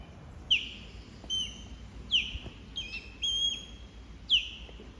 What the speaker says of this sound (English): it's definitely a big bird.